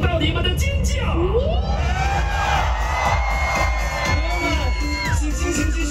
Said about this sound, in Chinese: 让我听到你们的尖叫！